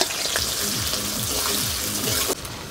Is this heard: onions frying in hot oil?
yes